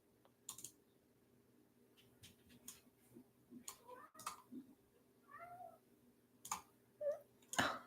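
A pet cat meows to be let in, giving a few short, faint meows set among soft tapping and clicking of a computer keyboard nearby.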